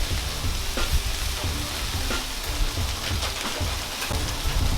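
Shrimp and crab seafood stir-fry spread out across a Blackstone griddle, sizzling and crackling in a loud, steady hiss without a break.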